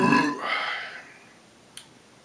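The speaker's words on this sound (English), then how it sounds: "Beer tasting, you have to belch, you know." A single loud, close burp after tasting canned Badger Fursty Ferret beer, fading out over about a second, followed by quiet and a small click.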